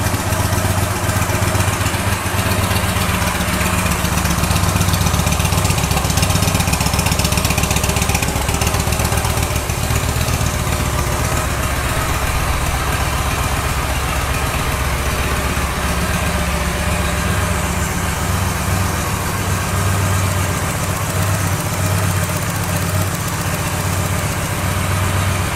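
A 2014 Victory Hammer 8-Ball motorcycle with a 106 cubic inch engine idles steadily up close, a loud, continuous low rumble with an even throb that holds for the whole stretch.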